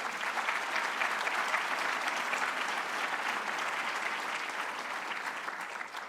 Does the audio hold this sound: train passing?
no